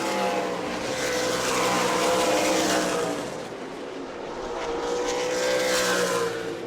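Super late model race cars roaring past on a short oval track, a loud sustained engine drone that swells and fades as they pass, with no voices.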